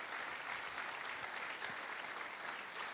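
An evening lecture audience gives a steady, even round of applause, dense clapping that stays at a constant level throughout, heard from a distance and fairly quiet.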